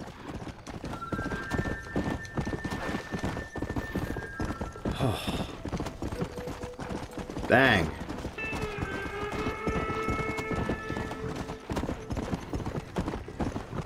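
Horse hooves clip-clop steadily through a Red Dead Redemption ranch scene, with a sharp whinny midway and game music and a voice talking over the trotting.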